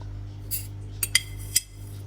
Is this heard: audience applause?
no